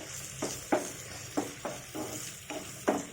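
Green chillies and toor dal frying with boiled raw banana in a pan, a soft steady sizzle broken by about seven regular scraping stirs of a spoon, close up with no speech.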